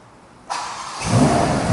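A Ferrari engine cranks and catches, then settles into a steady rumbling idle close by, with no voices.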